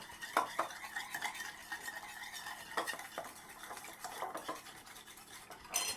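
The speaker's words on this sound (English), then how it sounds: "Mix this up right now so that the salt gets dissolved." A spoon stirring salt into a small serving of salad dressing, quick repeated clinks and scrapes against the container in a busy rhythm, close and fairly quiet with no talk.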